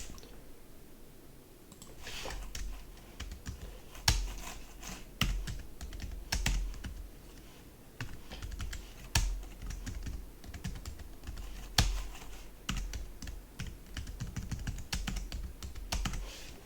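Computer keyboard being typed on, quick irregular bursts of clicking keystrokes with brief pauses, close and fairly quiet, no talking.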